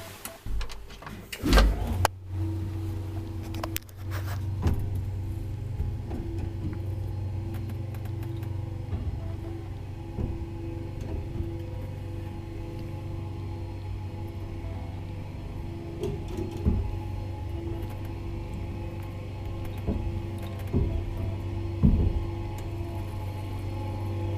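An old Kone traction elevator ride in Espoo: a steady low hum and rumble from the moving car, with clunks and door sounds near the start and faint creaks and knocks along the way.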